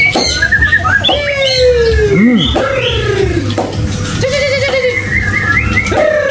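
A champion magpie robin sings inside a bird shop, loud and close, pouring out sweeping whistles, rising and falling slurred notes and sharp chirps in quick succession, with other birds faintly chattering behind.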